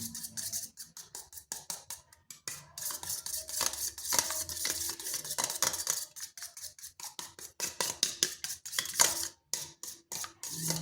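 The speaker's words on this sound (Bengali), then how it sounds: "এরপর ডিমটা ভালো করে ফেটিয়ে নিচ্ছি।" A fork or spoon beats an egg with turmeric, chili powder and salt in a bowl, tapping in a fast, steady, close rhythm against the sides with only brief pauses.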